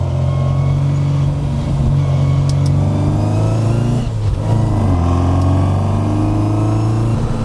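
A car with its soundproofing removed, driving and accelerating on a road, with a loud, droning engine note that rises and falls through gear changes, close and unmuffled inside the cabin.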